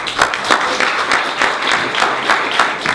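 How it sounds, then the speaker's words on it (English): A lecture audience claps for a speaker, a dense, even burst of applause with a slight rhythmic pulse, moderately loud and without talk over it. "we stand a round of applause for Dr. Cowen."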